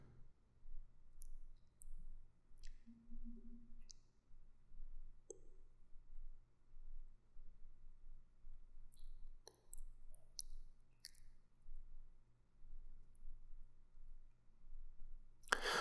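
Mouse clicks on a Mac opening a folder: sparse, soft, close clicks, some single and some in quick pairs, spread over a quiet background with a faint steady hum.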